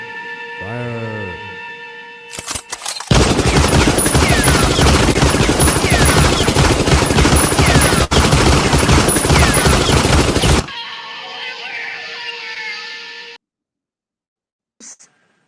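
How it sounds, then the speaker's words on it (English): Sustained loud crackling volley of rifle fire from a firing squad, dense overlapping shots lasting several seconds and then stopping abruptly, followed by faint quieter sound; a brief voice is heard beforehand. "Ready, aim, fire."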